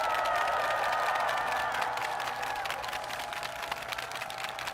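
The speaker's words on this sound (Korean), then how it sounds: "큰 박수로 격려 부탁드립니다." A crowd at an outdoor Korean presidential campaign rally in Seoul breaks into sustained applause and cheering, a dense, steady wash of clapping that tapers slightly toward the end.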